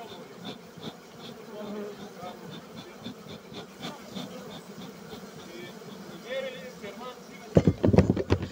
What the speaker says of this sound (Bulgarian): Има ужасно много пчела